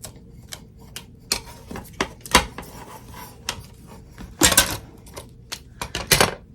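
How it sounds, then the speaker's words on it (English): Tape being peeled and pulled off a machine-embroidery hoop, with irregular crackling rips and taps at close range, several louder tearing bursts toward the end, no talking. "I'm gonna get all this tape off."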